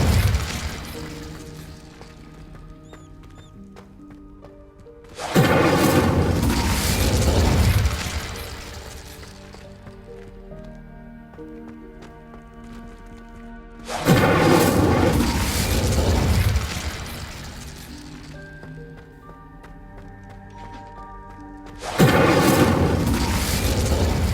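Incendio fire spells go off in Hogwarts Legacy, each one a loud roaring blast with a crackling burst that swells for a few seconds and then fades. Three blasts arrive at roughly eight-second intervals over game music.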